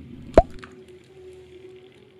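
A single wet plop as one egg drops into a bowl of brownie batter ingredients, short and close, followed by a faint lingering hum.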